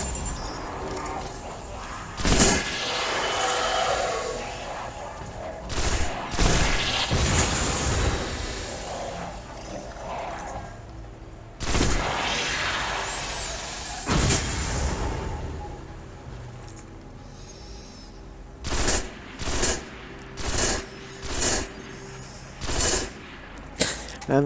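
Gunfire from the Parthian Shot weapon in the Destiny video game is heard in a tunnel as dense bursts and single shots over a busy game soundscape, ending in a series of evenly spaced, punchy shots.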